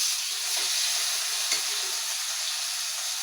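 Ham and egg frying in oil in a pan, a steady close hiss and sizzle continuing throughout with a soft bump from the pan partway through.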